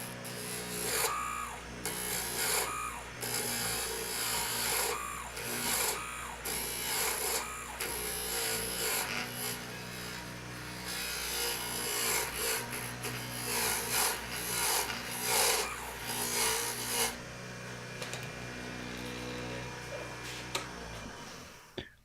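A lathe turns a shop-made screwdriver blank down to its outside diameter, giving a steady raspy cutting and rubbing noise for most of the time before it drops to a quieter hum near the end.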